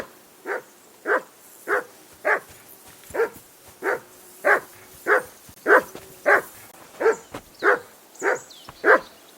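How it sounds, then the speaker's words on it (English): A dog barks repeatedly in the video game Kingdom Come: Deliverance II, about a dozen evenly spaced, moderately loud barks in a steady rhythm with quiet pauses between them. "Henry! Call off that damn dog"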